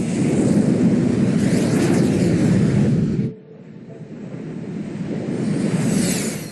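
An airplane flies away in Hitman: Contracts with a loud, broad engine roar that cuts off abruptly halfway, then a fainter roar builds back up toward the end.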